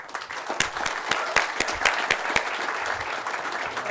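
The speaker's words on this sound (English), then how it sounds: "round of applause for those partners" Applause from the crowd at the grand opening of the Las Flores affordable apartments in Oregon City, a steady round of clapping with sharper individual claps standing out, moderately loud and continuous throughout.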